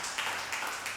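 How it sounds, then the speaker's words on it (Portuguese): A church congregation claps in a round of applause, a steady wash of many hands at moderate distance, fairly soft, with no talking over it. "Você pode dar uma salva de palmas ao Senhor?"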